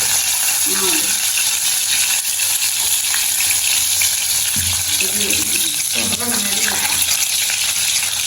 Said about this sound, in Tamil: இப்போ வந்து நாங்கள் முட்டையை பொறிப்போம்